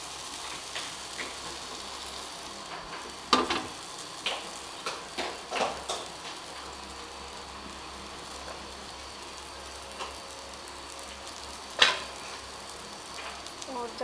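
A slice of bread fries in a pan with a soft, low, steady sizzle, broken by occasional sharp clicks and knocks from handling the pan.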